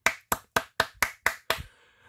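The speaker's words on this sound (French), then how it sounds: "suivi de quelques applaudissements" Several sharp, evenly spaced claps, about seven in quick succession, close and fairly loud, then a short fading tail; a sparse handful of applause after praise for a LEGO Eeyore minifigure.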